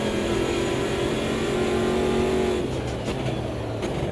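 A race car engine roars while overtaking a lapped car at Road America in Automobilista 2. The note stays loud and steady, then shifts lower as the pass completes, heard alone.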